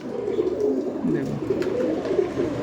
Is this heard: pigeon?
yes